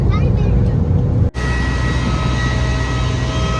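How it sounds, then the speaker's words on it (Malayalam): Steady loud jet airliner cabin roar as a Gulf flight from Dammam descends to land in Bahrain, a continuous low engine rumble with one brief dropout, then resuming unchanged. "അപ്പൊ നമ്മള് ബഹ്റൈനിൽ ലാൻഡ് ചെയ്യാൻ വേണ്ടി പോവാട്ടോ."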